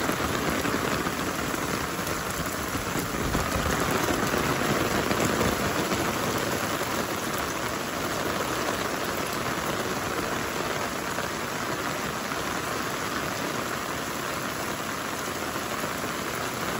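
Heavy rain pours down steadily, a dense, loud, unbroken hiss of drops hitting surfaces close by with no letup and no voices.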